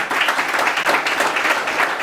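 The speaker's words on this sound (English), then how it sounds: "That's nearly worth a round of applause." Brief audience applause during a live interview event, a continuous wash of many hands clapping at fairly close range, steady and even for about two seconds.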